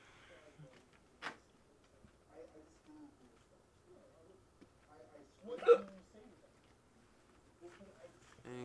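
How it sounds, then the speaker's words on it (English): A person with hiccups lets out several sharp, abrupt hiccups spaced irregularly, with one louder burst in the middle, along with brief vocal sounds and soft talking in a quiet indoor room. "These hiccups are just like actually killing me right now."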